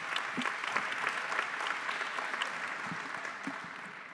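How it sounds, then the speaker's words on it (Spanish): An audience at a church family event applauds for Eduardo, a steady, fairly dense round of clapping from a moderate crowd that continues evenly for about four seconds. "lo podemos hacer con un aplauso para la gloria del Señor"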